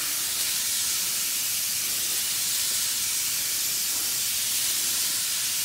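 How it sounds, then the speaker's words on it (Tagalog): Steady broadband hiss of a sprayer misting insecticide over crops being attacked by caterpillars, continuous and fairly even from start to finish with no talk. "Hopefully na mas maganda na itong spray natin ngayon."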